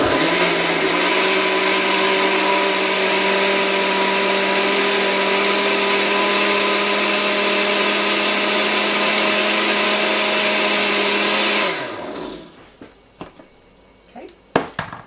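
A blender whirs loudly and steadily as it purees cauliflower with whole milk for an Alfredo sauce, running nonstop for about twelve seconds before cutting off and leaving scattered clinks and bumps.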